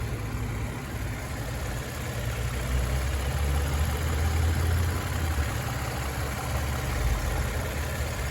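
Twin turbo Cadillac engine idling steadily with a low, even rumble and faint hiss, no voices.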